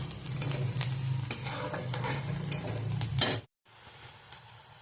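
Onion sautéing in a pan for a lady's finger (okra) bhaji makes a loud, steady sizzle close by, with the scrape and tap of a spoon stirring against the pan, before a brief drop to silence and a quieter sizzle.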